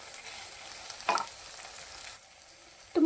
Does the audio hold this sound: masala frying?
yes